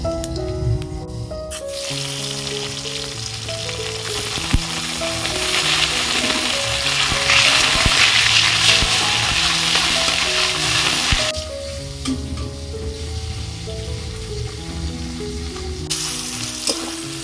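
Chopped tomato sizzles and fries in a hot pan for a cabbage and egg dish, a loud, steady crackle that stays close and continuous, thinning out slightly toward the end while soft tonal sounds play underneath.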